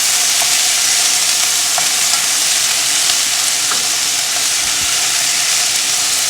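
Meat searing loudly in a hot pan for jambalaya, a steady close dense sizzle with faint crackles and no talk.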